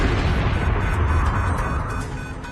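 An in-flight explosion in a flight simulator recreation of JAL Flight 123: a loud, heavy rumbling blast with a dense low-end roar that stays sustained throughout, slowly easing off near the end.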